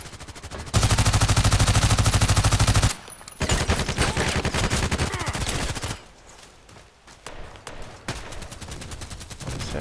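PDR-C weapon fire in the video game Contract Wars, long loud automatic bursts with rapid even rhythm, a brief pause, another sustained burst, then quieter scattered shots and game noise.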